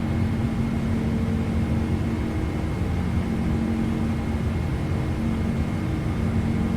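Steady broadband wind rush outside an aircraft in a flight simulator during takeoff climb, a continuous loud roar with a faint steady hum, no talk.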